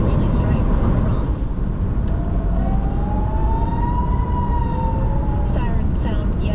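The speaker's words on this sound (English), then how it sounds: "Sirens sound yet again in Israel as Iran launches a fresh barrage of missiles." An air-raid siren in Israel during an Iranian missile barrage wails steadily, rising and falling over loud, dense background noise, with what sounds like an aircraft droning underneath.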